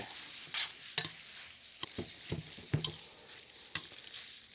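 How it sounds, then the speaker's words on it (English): Pasta tossed in a high-sided, almost wok-like pan with oil and guanciale for pasta gricia: soft sizzling under a string of sharp scrapes and jolts as the pan is shaken, close and fairly quiet. "Now you shake it and you toss it and you get it all coated with the oil and the guanciale"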